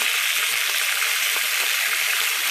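Two decent-sized sausages frying in a pan on high heat, a steady loud hiss and crackle of sizzling fat with a few tiny pops, close and unbroken, with no talking.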